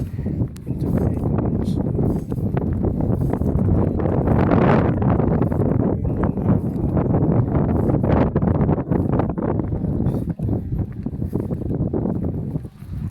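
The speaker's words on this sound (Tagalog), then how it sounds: "Pasensya na kayo sa hangin malakas." Strong wind buffets the microphone outdoors, a loud continuous roar with gusty swells that dominates the whole clip without a break.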